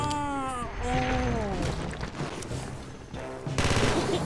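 Gunfire from the gangster video game Mafioso: Gangster Paradise, a loud burst of rapid shots and crashes layered over game music, with a short pause and then another dense burst near the end.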